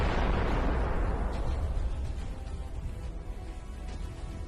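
A tank shell striking a Russian armored personnel carrier in the Russia-Ukraine war, one heavy boom at the start that rolls off into a long, dense rumble, distant and loud, with no voices.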